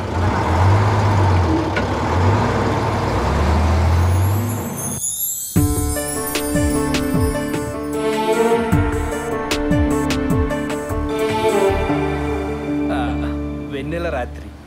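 A bus travelling at night, its engine a steady low drone with occasional air-brake hiss; about five seconds in, a bright music score with piano and strings swells over the rumble and plays on to the end.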